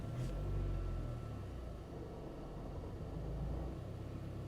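A car engine idling, a steady low rumble that stays even and moderately close with no revving or voices.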